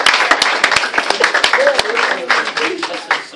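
An audience at a 2014 graduation ceremony claps for the graduating students. The sharp, scattered claps come from a small crowd and sound under steady talking.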